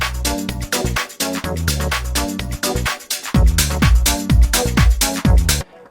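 An eight-bar house music intro with the kick and hi-hat removed, built from loud rhythmic chord stabs. Deep bass hits enter halfway through, plays alone.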